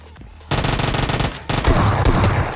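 Rapid automatic gunfire in the Free Fire video game as a player shoots down a bot, loud, dense bursts starting after a quiet half-second and continuing with a brief break near the middle.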